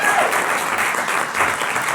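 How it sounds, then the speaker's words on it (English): Steady audience applause at a comedy podcast taping, a dense even wash of clapping that holds at a fairly loud level for the full stretch with no voices on top. "how about a round of applause for Charlene Connolly"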